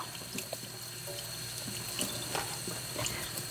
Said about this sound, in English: I'm gonna take these and rinse them in the sink.